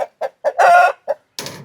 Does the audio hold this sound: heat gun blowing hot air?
no